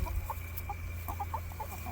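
Soft, scattered clucks from chickens over a low steady rumble, fairly quiet and close.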